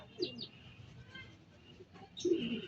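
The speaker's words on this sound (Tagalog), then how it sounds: "meron ako isang kalapati dumating" Soft pigeon coos come in two short bursts, one near the start and a louder one at the end, with faint chirps and quiet outdoor background.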